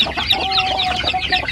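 Several native chickens cluck busily and continuously at close range, a hen with chicks, soft peeping calls mixed in throughout.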